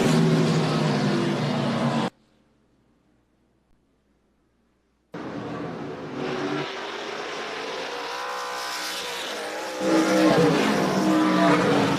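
Race cars battle for position at Carteret County Speedway in a Grand National Super Series race, with loud engines roaring and revving close by. A sudden two-second dropout cuts to near silence before the engine roar resumes and swells.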